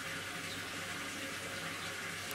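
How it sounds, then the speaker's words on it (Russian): Cold well water pouring steadily from a hose, a continuous close rushing splash with no pauses, loud and even throughout. "И вот холодная вода. Она льется."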